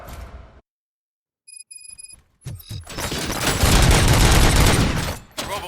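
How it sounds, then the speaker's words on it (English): Gunfire from the RoboCop Rogue City video game: after a short silence and a ringing tone, a loud, sustained burst of shots and booms erupts close by and fills the rest of the moment before cutting off. "Gunshots? What's going on?"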